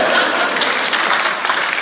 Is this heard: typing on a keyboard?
no